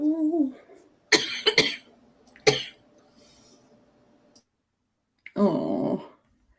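Several harsh coughs: a quick pair, a single one after a pause, then a longer raspy cough after a brief silence, close up.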